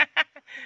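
A large farmed duck quacks in a few loud, close, rasping bursts, the last one drawn out longer, with no talk over it.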